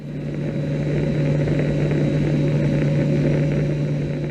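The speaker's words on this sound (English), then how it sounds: "I'm now aboard a US Navy aircraft" Steady cabin drone inside a US Navy aircraft in flight, a loud continuous engine hum with a strong low tone and no pauses, no voices heard.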